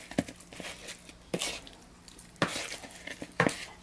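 Chicken wings being stirred in a Ninja Foodi cooker, a few scraping, clattering strokes spaced about a second apart over a faint background hiss, close and fairly quiet.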